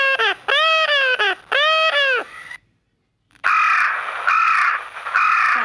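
A crow caws loudly and close by in harsh, repeated calls, two quick bursts of several caws, a brief silence, then more rasping caws, with no talk.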